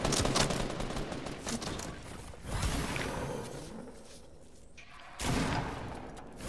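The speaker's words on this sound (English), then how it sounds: "Someone else is shooting me with a sniper or something." Sniper shots and bursts of gunfire in a Fortnite squad match ring out as sharp cracks, with a dense volley at the start, a few scattered shots in the middle and another loud burst near the end.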